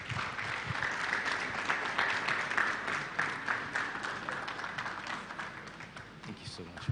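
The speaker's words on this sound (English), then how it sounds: "Another round of applause for Mrs. Lola Esson." Audience applause at a graduation ceremony for an employability programme: a dense, sustained wash of many hands clapping that fills the whole stretch, a voice faintly mixed into the crowd noise.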